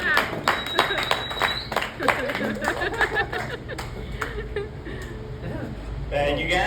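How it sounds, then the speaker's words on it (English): Audience at an alligator show in an Everglades park claps in a short scattered burst alongside chatter and light laughter, with a presenter speaking nearby. "Sometimes people clap."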